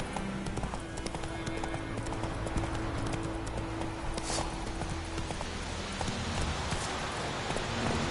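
Horse hooves clip-clopping in the video game The Witcher 3, a steady trotting rhythm close by, continuing throughout over faint ambient background.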